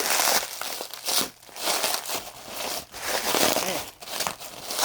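Wrapping paper crinkles and crumples continuously as a gift is unwrapped by hand up close, with repeated rustling bursts and brief pauses between them.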